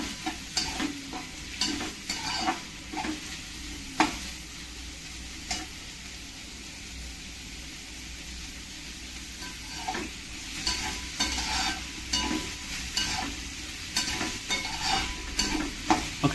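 Onion frying in a pan while being stirred, a soft continuous sizzle broken by repeated scraping strokes of a utensil against the pan, close and alone.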